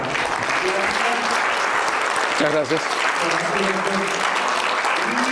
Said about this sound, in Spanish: vamos a darle un aplauso al doctor